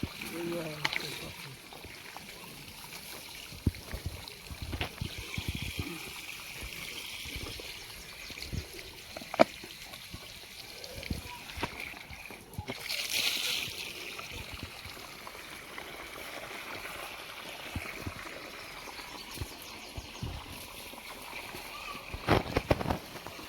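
Water is thrown across a home courtyard in scattered, irregular splashes and spatters over a long stretch, with people talking throughout.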